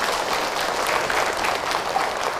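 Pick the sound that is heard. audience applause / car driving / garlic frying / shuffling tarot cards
audience applause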